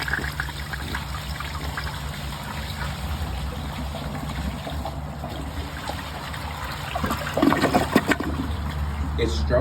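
A 1968 American Standard Cadet toilet flushing a washcloth and grocery bag, a loud close rushing of water with gurgling swirl and a stronger surge near the end, with faint talk underneath.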